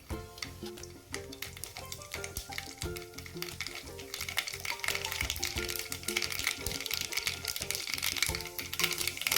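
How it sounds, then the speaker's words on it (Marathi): Mustard seeds crackle and sizzle steadily in hot oil in a kadhai, growing slightly louder over time, with a soft tonal background and no speech. "आपलं तेल गरम झालेलं आहे पण त्यात एक चमचा मोहरी घातली"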